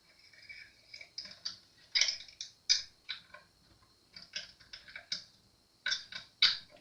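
A small nut is tightened onto the pickup output jack of a Taylor 310 CE acoustic guitar with a hand tool, producing a quiet, close series of irregular ratcheting clicks and ticks.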